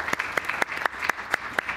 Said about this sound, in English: can we give Jenny a round of applause